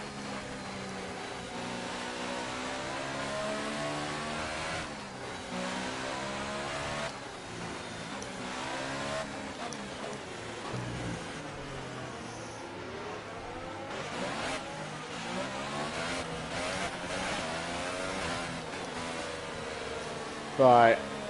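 An F1 car in the video game F1 2018 weaves to warm its tyres, the high engine note rising and falling in long sweeps as the car runs on, with a voice talking over the top.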